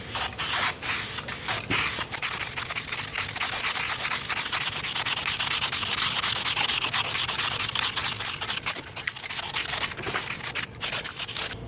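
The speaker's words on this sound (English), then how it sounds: "Now I'm going to use the Krylon top coat, and I'll apply probably 3 coats of this." Krylon top coat is sprayed onto metal mesh for a computer case front intake grill, producing a continuous close aerosol hiss broken by a few short pauses and restarts.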